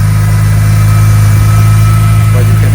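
A BMW E46 M3 engine idles steadily on a cold start, a loud, continuous low rumble with a constant tone and no breaks, heard close up from the engine side.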